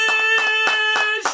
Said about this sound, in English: give me a big round of applause for Chris Strike Tyson